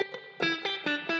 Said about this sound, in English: That sounds just like you know, the Accutronics spring reverb tank.